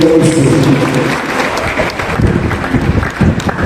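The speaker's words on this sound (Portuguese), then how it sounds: "Com palmas, vamos receber o nosso ministério" Loud congregation clapping at a church anniversary celebration, a dense rhythmic patter close by with crowd noise and a few faint voices mixed in.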